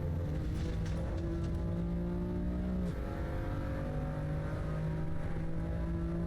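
A car accelerating in third gear uphill and onto a straight in a racing video game licence test, driven with a controller: a loud, steady engine whine that climbs in pitch, dips briefly at a shift, then climbs again, with no talking.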